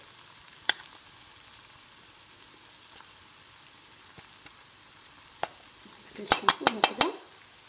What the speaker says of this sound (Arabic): غادي ندمج هاد العناصر جيدا بحال ما هكذا، حتى يتخلط ليا هذا الروز هذا مع الفلفل والبصل